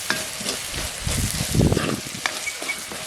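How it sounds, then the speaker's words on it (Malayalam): Chilli and coriander powder fry with onion in oil, a soft, close sizzle with the scrape and shuffle of stirring that swells midway and then settles. "ഇതിന് എണ്ണയിൽ കിടന്ന് ഉള്ളിയുടെ കൂടെ ഒന്ന് മൂക്കട്ടെ."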